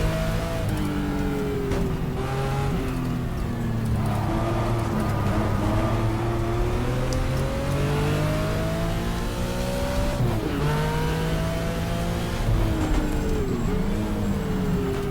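A race car in the GTR2 video game braking and changing down as it enters the Nürburgring Nordschleife past the pit area, engine whine rising and falling through gear changes, loud and close with no other sounds.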